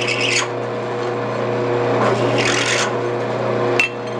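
A steady, continuous rasping scrape of a hand-turned countersink cutting into a metal brake kit plate, grinding on without pause for several seconds, close and fairly loud.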